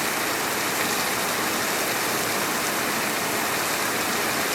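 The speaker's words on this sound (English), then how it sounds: "can you hear how loud this rain is?" Dense, steady hiss of heavy rain pouring down in Washington, a constant loud wash of noise with no voices.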